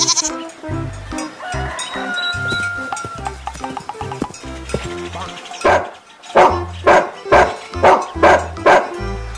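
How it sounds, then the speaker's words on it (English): Goat bleats repeat in a quick series of loud, wavering calls over a steady musical backing, about six in a row toward the end. "Goat."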